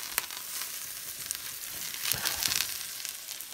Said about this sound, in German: Und danach kommt der Fisch einfach in das Öl rein.